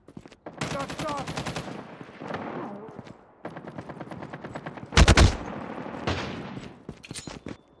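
Automatic weapons fire in a Call of Duty match rattles in rapid bursts, with one loud blast partway through, close and dense, and in-game voices call out in between.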